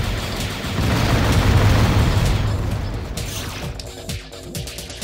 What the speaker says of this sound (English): somehow I managed to land a direct hit on a cloaked robot with a homing missile